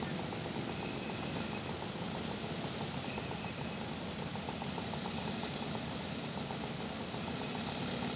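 A vintage motorcycle at a veteran rally in Ibbenbüren runs with a steady, rough, mid-pitched engine drone that stays constant throughout, with no clear rise or fall of a pass-by.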